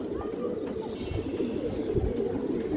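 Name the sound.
pigeon cooing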